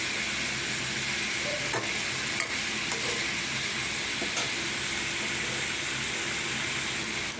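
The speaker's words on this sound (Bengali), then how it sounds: "এইবারে দেবো জল এটা কিন্তু সামান্য গরম জল" Warm water hits fried spice paste in a pan for a fish roe dalna, raising a loud, steady sizzle and hiss that runs unbroken for several seconds, with a few faint clinks of stirring.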